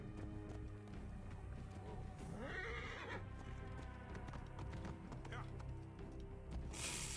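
A horse in the video game Assassin's Creed Origins whinnies and trots, with rhythmic clip-clop hoofbeats and a clear neigh over game music and ambience.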